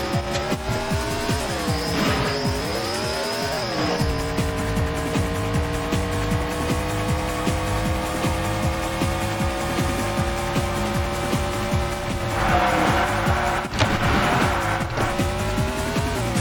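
A race car in a racing video game on Saturn, Mario Andretti Racing, loses control on the first corner, its engine droning steadily before tyres squeal and skid in long screeching bursts, loud and close with no talk.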